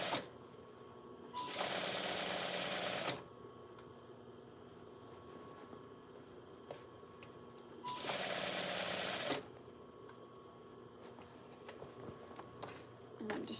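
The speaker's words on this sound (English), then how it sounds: "And then I can raise my presser foot and spin my fabric so that I can come straight down the next edge." A sewing machine stitching heavy minky fabric for a baby blanket runs in two steady bursts of about two seconds each, separated by quiet pauses, close and clear with no talking.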